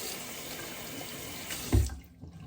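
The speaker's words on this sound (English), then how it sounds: "Sorry for running water." Water runs steadily from a tap into a sink, a continuous close hiss of flow that stops abruptly near the end, followed by a brief clunk and quiet.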